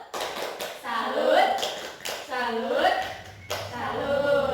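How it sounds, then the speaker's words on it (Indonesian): Elementary science class giving a patterned clapping salute, short bursts of hand claps and taps with children's voices chanting and shouting in between. "gitu kita beri tepuk salut"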